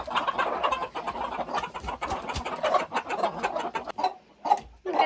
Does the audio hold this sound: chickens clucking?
yes